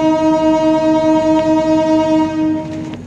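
The KA Singasari passenger train at Haurgeulis station in Indramayu sounds a loud, sustained horn close by over a low engine rumble. The horn fades near the end.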